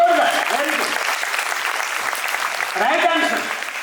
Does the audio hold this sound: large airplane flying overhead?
no